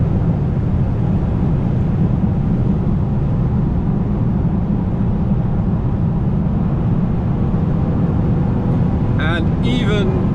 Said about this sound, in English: you do hear that engine and you do hear that exhaust rumbling a bit